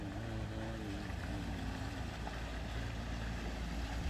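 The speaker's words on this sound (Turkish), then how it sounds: "Balıkçı teknesi." A fishing boat engine drones low and steady throughout near Helsinki, Finland, with wind and water noise layered over it and no voices.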